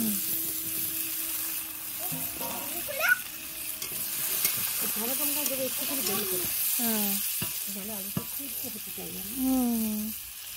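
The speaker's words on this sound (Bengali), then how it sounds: "পেঁয়াজটা ভাজা ভাজা হয়ে যায় লাল লাল হয়ে যায়" Onions fry in an open village-kitchen pan until browned, with a steady sizzle and occasional stirring scrapes underneath while a voice talks over the cooking in the second half.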